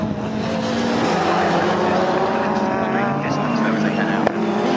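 Caterham Seven race cars at full racket on the Snetterton circuit, engines roaring continuously and close by with a steady, rising pitch, a brief sharp crack near the end, while a commentator talks over it.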